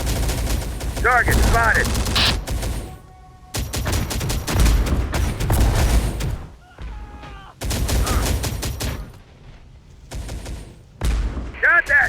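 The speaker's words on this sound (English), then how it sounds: "Taking heavy fire." Heavy gunfire from the Operation Fallen Kingdom war game comes in long dense bursts of rapid shots, breaking off into short quiet gaps, with voices shouting and talking over the firing.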